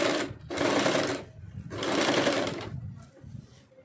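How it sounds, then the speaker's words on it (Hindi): A sewing machine runs a top stitch across fabric in two longer bursts, then a brief short run, with whirring motor and rapid needle clatter pausing between passes. "यहाँ पे हम लोग टॉप स्टिच लगा देंगे।"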